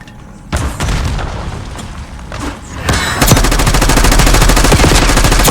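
Video game gunfire starts with separate loud shots and short bursts, then builds into sustained rapid automatic fire with heavy booming reports, close and dominant throughout.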